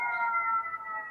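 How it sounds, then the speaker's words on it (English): Sirens outside, a steady wailing tone with stacked harmonics that holds level and then wavers slightly, heard at a moderate distance with no voices over it. "forget these sirens, hold on."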